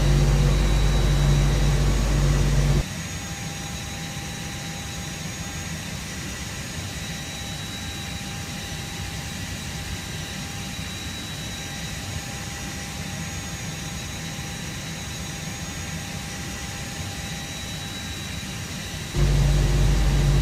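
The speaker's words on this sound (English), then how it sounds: "That's a good start on both engines." Airbus A320 jet engines run steadily in the Prepar3D flight simulator game, a constant broadband whine and rumble with a thin tonal hum that drops slightly in level and then rises again near the end.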